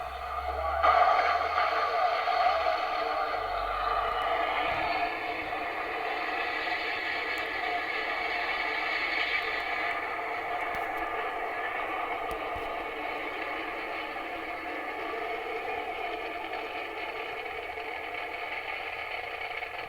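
A toy rocket launch pad control plays a rocket launch sound effect: a steady mechanical roar that swells near the start and then holds evenly, heard close and alone.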